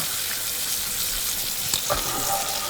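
Peaches fry in melted butter in a pan, a dense steady sizzle with crackling spits close by and a couple of brief utensil knocks near the end.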